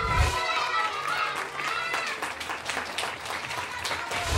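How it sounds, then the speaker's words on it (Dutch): Studio audience applauding a child performer on a Dutch children's TV show, a short burst of clapping with some overlapping chatter and movement. "Applaus voor Ryan."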